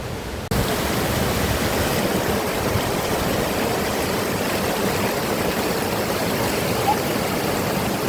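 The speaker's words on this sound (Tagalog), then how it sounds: "Ito na yung falls guys oh." Hulugan Falls in the Philippines pours in a steady, loud rushing roar of falling water that stays constant from start to finish, with no voices over it.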